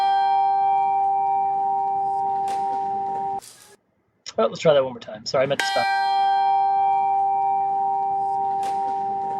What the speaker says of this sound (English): Let's listen to this bell.